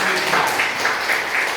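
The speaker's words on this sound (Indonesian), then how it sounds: "Tepuk tangan." Audience applause at an end-of-year teacher reflection gathering, a steady wash of many hands clapping that fills the short moment at even loudness without standing out sharply.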